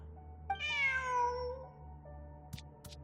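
A cat meows once in the video game Genshin Impact, a clear, drawn-out rising-and-falling call up close over a low steady game hum, followed by two brief clicks.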